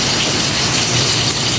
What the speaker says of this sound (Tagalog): Buti na lang ngayon ay medyo mahina-hina pa yung ulan,